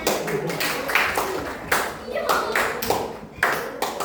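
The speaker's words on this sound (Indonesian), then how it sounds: "Tepuk tangan untuk semuanya." Students in a classroom lesson clap together, a loose, moderately loud patter of hands with a few stronger claps standing out, while someone speaks over it.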